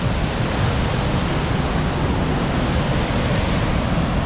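A large waterfall in the Philippines roars steadily with heavy broadband rushing water, loud and continuous throughout, its flow swollen after rain, with no voices over it.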